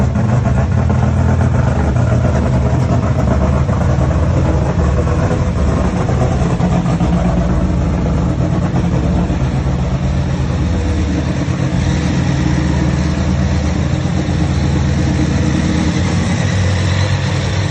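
A Dodge Charger engine runs hard on a dyno during a tuning session, a loud continuous roar held steady throughout with a slight swell in pitch, no voices over it.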